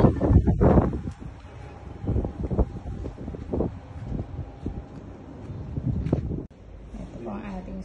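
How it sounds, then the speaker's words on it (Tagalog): Gusty wind on a Quezon City condo building buffets the microphone in low rumbling bursts, with a brief moment of rustling and a voice heard faintly now and then. "Lakas ng hangin."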